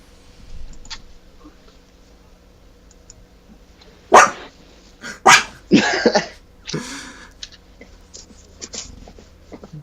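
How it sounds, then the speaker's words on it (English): A dog that wants to go downstairs gives a cluster of sharp barks and whines in the middle stretch, loud and close against a quiet room with faint background noise. "we're gonna have a dog whining in the background for a little bit because he wants to go downstairs"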